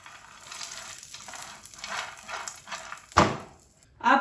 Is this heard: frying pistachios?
yes